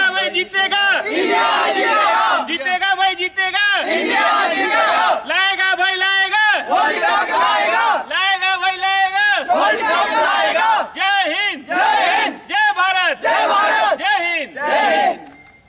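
A crowd in Asansol chants "India" over and over in loud, rhythmic bursts, cheering the Indian team before its opening World Cup match against South Africa; voices shout together with brief gaps between chants.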